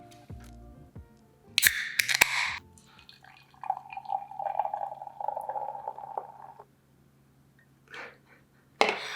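An IPA beer is poured into a glass, with a short splash and then a longer steady glug and fizz of liquid, alongside a few sharp clicks and clatters of a can or bottle.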